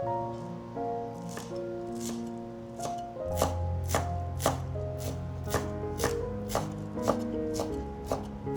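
A knife chops chives on a cutting board in a steady series of crisp, evenly spaced taps, close and clear over faint background music.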